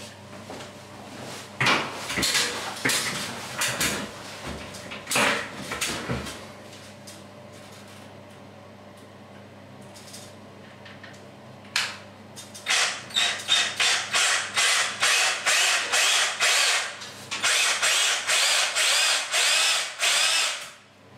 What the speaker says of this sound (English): I'm using an SDS machine here to drill this hole.